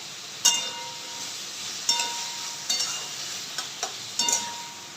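Potato bhaji being stirred with salt in a pan, with soft sizzling underneath and several sharp metallic clinks of the spoon against the pan at irregular intervals.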